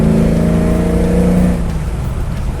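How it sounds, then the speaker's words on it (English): A 1967 Camaro SS fitted with an LS engine revving under hard throttle on a hot day in St. Louis, a loud, close engine roar with a rising tone that drops back partway through, with no voices. "The throttle rolls on nice and hard."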